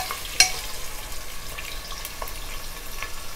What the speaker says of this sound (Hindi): तो कुकर में ही हम अपने प्याज को फ्राई कर लेते हैं।